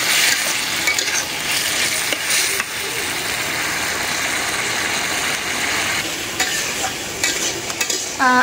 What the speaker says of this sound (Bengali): এই যে এখন যে কষাইতেছি এখন এই মাছের ভিতরে মশলাটা ঢুকবে